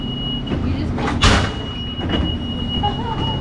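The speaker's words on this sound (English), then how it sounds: "This is the train right here that we get on" Train standing at a Los Angeles rail station, with a steady low rumble and hum, a constant high whine and a brief louder burst of mechanical noise partway through, while faint chatter sits in the background.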